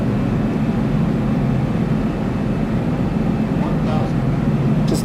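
Steady, loud airliner engine roar on ILS approach into London Heathrow in the X-Plane flight simulator, a continuous broadband drone throughout.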